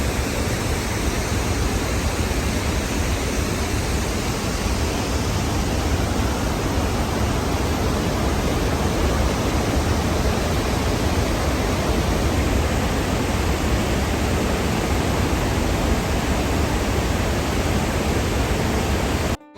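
Khon Phapheng waterfall in Laos roars as a dense, constant rush of falling water, loud and unbroken throughout with no voices.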